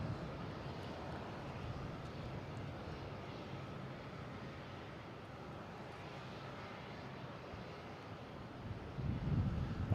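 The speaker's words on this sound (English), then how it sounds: "There's that JetBlue from Las Vegas." A JetBlue jet airliner arriving from Las Vegas at Boston Logan makes a distant, steady engine rumble with light wind noise, growing slightly louder near the end.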